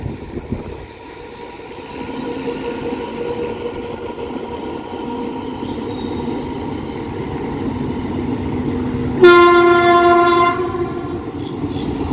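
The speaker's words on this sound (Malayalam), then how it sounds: "മംഗലാപുരത്തുനിന്ന് MGR ചെന്നൈ സെൻറ്ററിലേക്ക് വന്ന മെയിൽ സൂപ്പർ ഫാസ്റ്റ്." An Indian Railways Mangalore to Chennai Mail superfast train rumbles past close by, its loud, steady rolling din swelling as a long, sustained horn blast sounds near the end.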